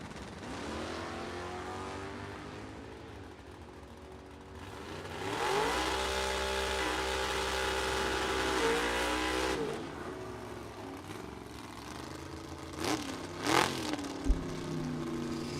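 Two bracket drag race cars, a 1965 Dodge among them, launch side by side down the strip with loud roaring engines, rising harmonic revs surging for several seconds before fading, then brief sharp bursts near the end.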